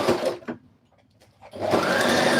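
A sewing machine runs while stitching a peplum blouse, a loud close whirring burst that stops, leaves a near-silent pause with faint handling, then starts up again steadily.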